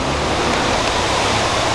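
A self-service car wash bay near Ramstein, where a pressure sprayer blasts water in a loud, steady hiss that runs unbroken throughout.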